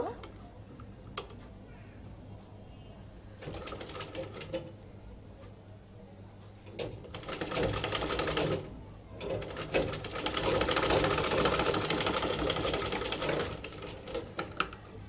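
A sewing machine stitches a zipper (chain) onto a garment in bursts of fast rattling, ticking needle strokes, stopping and starting, with quiet pauses between runs and low room hum beneath.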